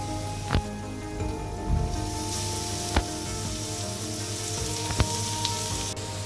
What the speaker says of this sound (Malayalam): സവാള വഴന്നു വന്നാൽ ഗ്രേറ്റ് ചെയ്തിരിക്കുന്ന ബീട്രൂട്ട് ചേർക്കുക.